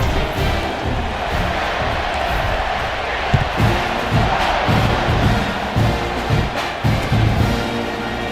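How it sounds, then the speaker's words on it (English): A large stadium crowd in the College Football 26 video game buzzes and roars steadily ahead of a kickoff after a score. The dense, loud crowd noise runs throughout, with swells of cheering rising and falling. "this crowd is buzzing after that last score."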